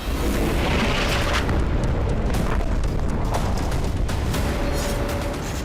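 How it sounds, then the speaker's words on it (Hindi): Missile strikes in Gaza produce a dense, continuous rumbling roar of heavy blasts, loud and close, with booming bursts layered over a constant low rumble. "जिसमें गाजा के लोगों पर मिसाइलों से हमला हो रहा है।"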